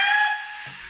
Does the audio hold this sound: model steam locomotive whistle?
yes